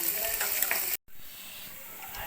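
Onions and green chillies sizzle steadily in a hot pan with curry leaves, a dense crackling hiss that cuts out for a split second and then resumes, slightly softer, close and continuous.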